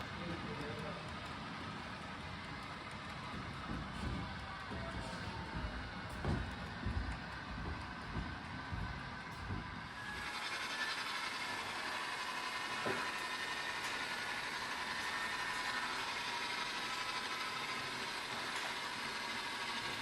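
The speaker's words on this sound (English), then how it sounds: "The Southern Central GP7 is now running around the grain train" A Southern Central GP7 diesel locomotive rumbles at low speed while running around a grain train, its engine throbbing under a voice at first, then a steady idling drone continues alone.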